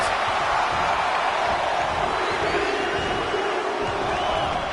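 Dense, steady roar of a virtual wrestling arena crowd in WWE 2K20, a loud continuous wash of cheering with no clear breaks, heard close and filling the whole span.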